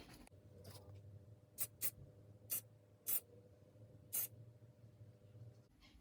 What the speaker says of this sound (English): Give this board a little spray.